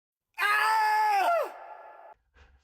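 A single long, harsh scream rings out loudly alone, sliding downward in pitch as it fades into a quieter breathy tail, followed by a brief low thump.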